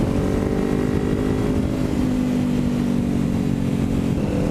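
A Kawasaki Ninja 400 motorcycle fitted with a Hindle exhaust drones steadily while riding, a continuous loud engine note with a raspy exhaust tone and slight shifts in pitch.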